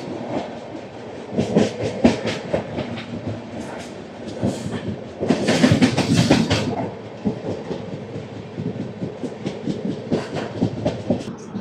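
The Tirupati AC Double Decker Express, running from Visakhapatnam to Tirupati, rumbles steadily along with rhythmic clickety-clack from the wheels and a louder rush of passing noise midway.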